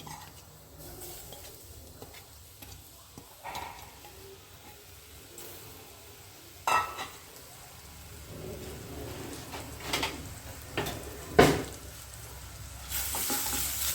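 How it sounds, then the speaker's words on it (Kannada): Grated carrots sauté in melted ghee with a steady close sizzle and frying crackle, stirred now and then with a few sharper scrapes and clatters of the spoon against the pan. "ಹಾಗೆ ತುಪ್ಪದಲ್ಲೇ ಚೆನ್ನಾಗಿ ಬಾಡಿಸ್ಕೋಬೇಕು"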